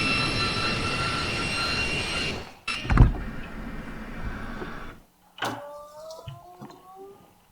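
An aircraft cockpit canopy closes with a loud mechanical clunk, set against the steady whine of ground equipment that cuts out partway through, with faint electronic tones afterward.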